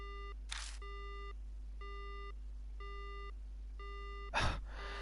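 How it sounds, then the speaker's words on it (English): Repeating busy-signal tone of a dead phone line in the video game Spirit Hunter: five evenly spaced short beeps, each a steady harmonic tone, with two brief noisy bursts between, alone without speech. "The phone goes dead."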